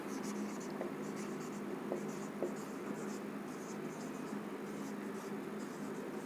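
A teacher writing notes on a board in a class, a steady faint scratching under a hiss of room noise, with a few light taps.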